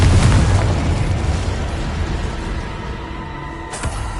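Confringo explosive spell blast from the video game Hogwarts Legacy: a loud, deep boom right at the start that rumbles and fades over several seconds, with a sharper second crack near the end.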